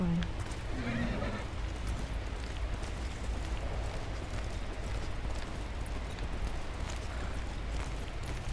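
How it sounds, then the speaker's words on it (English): A horse whinnies briefly near the start within the video game Ghost of Tsushima, followed by a continuous, dense clatter of hooves as the animal runs, steady and moderately loud throughout. "Spend some time bonding with my new horse and build relationship."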